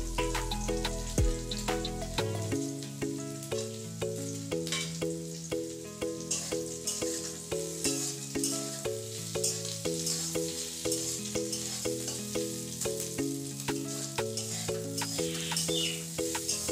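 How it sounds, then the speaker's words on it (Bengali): Thick-cut potatoes fry in a pan with a soft steady sizzle, heard faintly beneath prominent background music playing throughout. "তো চলো আলুটা ভেজে নিই"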